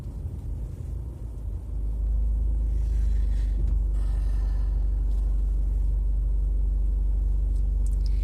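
Car pulling away and driving off, a low engine rumble that swells after a couple of seconds into a steady, close, droning hum from inside the vehicle, with no talk.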